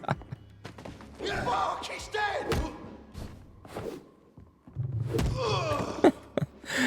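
A club strikes an enemy in the Vampyr video game, delivering several heavy thuds and thunks at irregular intervals, with grunts and game sound effects in between and someone talking over parts of it.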